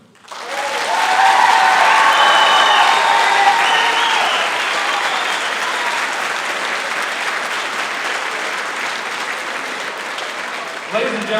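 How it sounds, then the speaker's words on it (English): An audience at a spring school band concert breaks into loud, sustained applause that swells quickly and then continues steadily with cheering, tapering slightly toward the end. "can we have a round of applause for our 2021 Hudson Band Seniors?"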